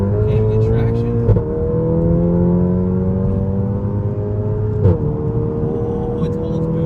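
A Volkswagen GTI fitted with an IS38 turbo pulls hard under acceleration. Its engine note climbs steadily, breaks at two quick gear shifts and keeps rising, loud and close from inside the car.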